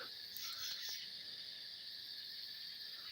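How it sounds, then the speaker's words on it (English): An owl calls at night at a nature reserve, a few faint distant hoots over a steady chorus of crickets and insects. "And they've got owls out here."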